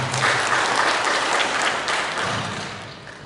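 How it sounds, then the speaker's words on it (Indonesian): Audience applause at a corporate office event, dense sustained clapping from a crowd, loud and steady, easing slightly toward the end. "ini tepuk tangan buat wanita kita"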